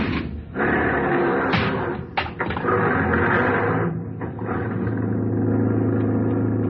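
A taxi cab pulls away in a staged radio-drama street scene, with a door thud or two and an engine rumbling up and settling into a steady idle-drone, close and fairly loud with no talking.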